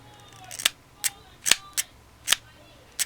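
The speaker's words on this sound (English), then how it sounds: "so that when you fire it, the rubber band can jump off" Six sharp, snappy clicks from a homemade rubber band gun modeled on the Whitney Wolverine, fired at irregular intervals close to the mic in a quiet room.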